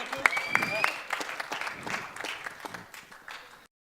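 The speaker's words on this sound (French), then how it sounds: "On peut les applaudir." Applause from a small audience at an anniversary event, brief claps and cheering mixed with some voices, fading out after a few seconds into silence.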